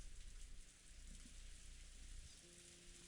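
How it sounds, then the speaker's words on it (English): Endless rain falling in the Golden Land of the Umineko visual novel: a faint, even patter and hiss of rainfall that carries on without pause, heard alone. "In the Golden Land, the endless rain continued to fall."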